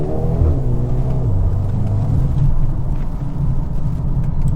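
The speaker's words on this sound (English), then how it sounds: "You get that turbo noise, and you also get the hops on the upshift" A 2022 Mercedes GLB35 AMG SUV's turbocharged engine rumbles and revs steadily from the cabin, the tone rising through gears with a faint turbo whoosh; distinct upshift pops are not clearly separated from the continuous drone.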